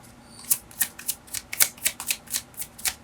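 A deck of cards shuffled by hand, with a rapid series of crisp riffling bursts repeating roughly every third of a second, close and clear, with no one talking.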